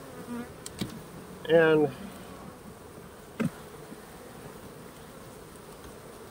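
Honey bees buzz around an open frame of brood lifted from a hive, a faint steady hum with a brief louder buzz as one passes close, plus a few light knocks and a short spoken word.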